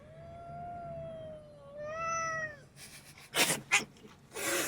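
Cat meowing in a van parked in Rochester, with two drawn-out rising meows up close followed by bursts of hissy, rustling noise.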